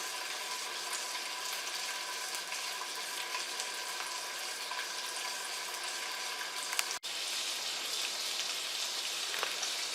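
Duck magret breast frying in a pan, a steady dense sizzle and crackle that stays close and even throughout, with one brief pop near the end and no talking.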